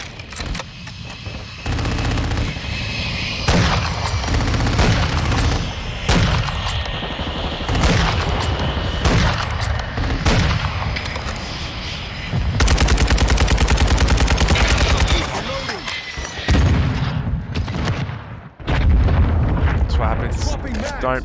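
Gunfire in a shooter video game, with long loud bursts of rapid automatic fire and heavy booms running nearly throughout, and a player talking over it.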